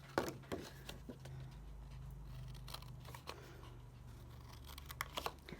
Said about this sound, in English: we're going to cut up each of these score lines